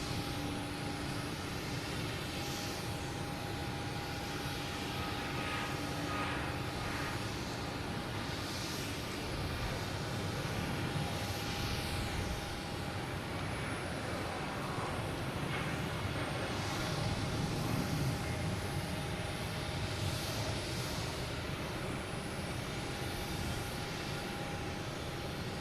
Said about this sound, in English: Next to take off is United, heading to LAX. Boeing 737 MAX 9.